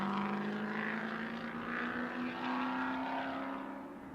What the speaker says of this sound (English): Pick up all the beautiful sounds of these race cars as they make their way around